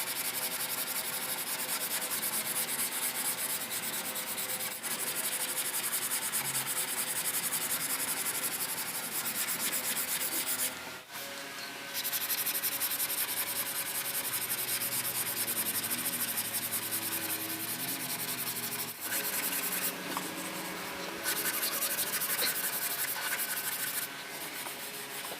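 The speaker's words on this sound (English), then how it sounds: "I'll continue to block this out with 180 grit sandpaper until it's nice and level." Steady, continuous block sanding of body filler over a small car dent with 180-grit sandpaper, a close dry scratching rasp that runs almost without pause, with a couple of brief breaks between strokes.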